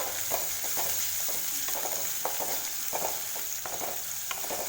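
Crushed garlic sautés in a pan over a low flame, giving a continuous soft sizzle with scattered light scraping and stirring taps, close and even throughout.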